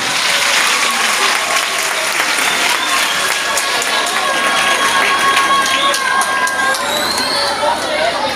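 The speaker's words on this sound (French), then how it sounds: "Applaudissez fort." An audience of schoolchildren and adults applauding loudly at a school launch event in Kinshasa, a dense continuous wash of clapping mixed with crowd noise and shouts, steady from start to finish.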